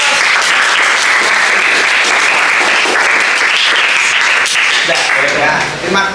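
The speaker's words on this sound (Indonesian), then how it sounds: "Tepuk tangan lagi buat" Loud, dense classroom applause from students clapping together, steady and close for several seconds before easing slightly at the end, with faint voices underneath.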